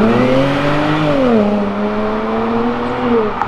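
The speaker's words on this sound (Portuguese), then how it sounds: "saudade que eu tava de uma BMW com um cara que sabe dirigir" A BMW accelerates along Avenida Europa, its engine revving up in a rising whine that dips and climbs again through a gear change, loud and close with no talk over it.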